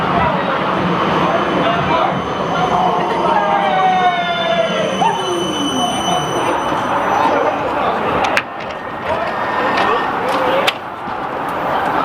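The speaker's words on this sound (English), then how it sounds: "we're catching the very last Route 58 tram along Domain and Park Street and Domain Road" The final Route 58 tram runs along Park Street and Domain Road with steady rolling rumble, a rising whine and squealing wheels, plus a sharp clunk near the end, while people talk over it throughout.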